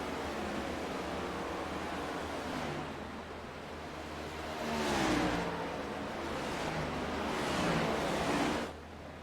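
Race cars without traction control driving at Pocono in a BRR Cup race, a steady engine roar with cars swelling past up close and fading, under heavy wind and broadband rush.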